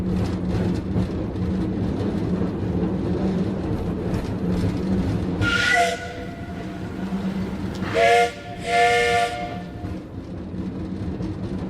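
A steam train called the Sky Train rumbles steadily along the rails, then sounds three loud whistle blasts: one near the middle and two close together near the end, with no voices.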